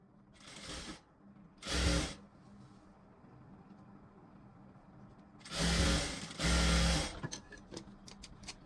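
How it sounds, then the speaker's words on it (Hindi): A sewing machine edge-stitching a blouse runs in short bursts, two brief runs then two longer ones, close by and fairly quiet against a soft room background. "इसको इस प्रकार से करके दाब सिलाई किनारे किनारे ऐसे।"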